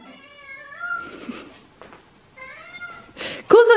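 A pet cat meows and complains indoors, two drawn-out wavering cries separated by rustling, ending with a sharp louder yowl close by.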